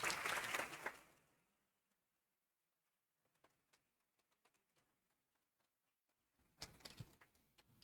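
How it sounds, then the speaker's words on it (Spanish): An audience applauds at a book presentation, a loud burst of clapping that fades within a second, then near silence with scattered small taps, and a second round of clapping rises near the end. "Lo recibimos con fuertes aplausos."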